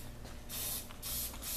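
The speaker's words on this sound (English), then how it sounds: "Now this one is the only one that's in a spray can, so I've got the paper towel here for the overspray." Firearms oil sprayed from an aerosol can onto a paper towel: two short, close hissing bursts separated by a brief pause, in a quiet room.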